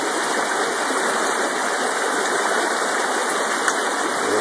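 Steady broadband rush of water poured through a gold panning safety pan at a claim, continuous and fairly close, with one faint click near the end and no talk.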